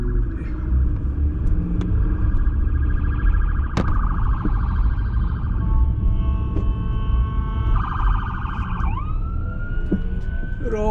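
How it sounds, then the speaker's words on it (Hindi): Police siren wailing as the car comes up from behind on a road in Winnipeg, Canada, sweeping steadily over a loud engine and road rumble inside a moving vehicle, with a brief yelp near the end. "कहाँ से आ रही है आवाज़? वो पीछे से पुलिस वाले आ रहे।"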